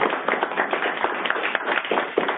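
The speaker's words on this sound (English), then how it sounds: "So if you want to applaud for Jan, please do." Applause for a colleague at a transportation network meeting, a steady patter of many hands clapping together, moderately loud and continuous throughout.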